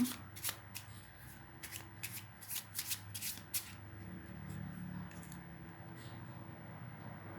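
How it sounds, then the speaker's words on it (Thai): Tarot cards riffle and slap as a deck is shuffled and cards are drawn, quick crisp bursts up close in the first half, then softer sliding and handling with no talking. "เรามาเปิดไพ่เพิ่มค่ะ ขอสามใบ ให้คนกองที่สาม"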